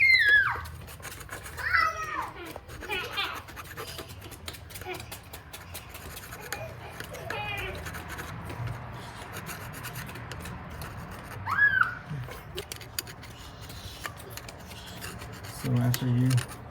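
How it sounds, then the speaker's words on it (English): A scraper rasps old EGR gasket residue off a metal mounting surface on a Mitsubishi, in faint, irregular scraping strokes with brief pauses and a voice speaking now and then. "Scrape everything off."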